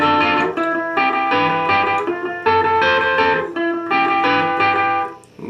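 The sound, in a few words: electric guitar picking pattern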